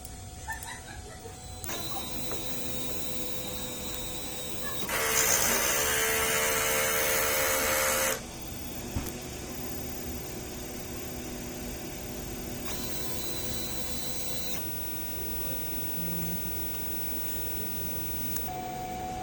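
DTF printer running a head cleaning cycle, with mechanical whirring and pump hums, a louder burst in the middle and smaller motor runs before and after, plus a few faint beeps.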